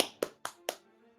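Three crisp hand claps in an even rhythm, close and clear, followed by a faint tail of quiet.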